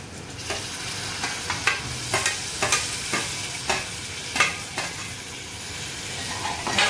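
Spiny gourd (kantola) pieces frying in masala in a pan, a steady sizzle broken by irregular sharp clinks and scrapes of a spoon stirring against metal, close and fairly loud, no talking.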